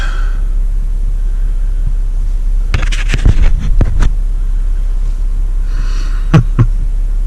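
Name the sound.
garbage truck passing on a road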